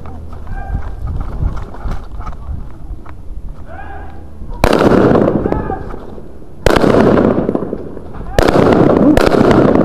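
Loud, sharp gunshots ring out during a police response to an attempted murder in Albuquerque, several sudden blasts with echoing tails following tense shouting.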